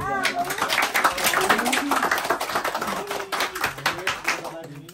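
An audience claps in a dense, uneven burst of handclaps that fades toward the end, with voices audible over the applause.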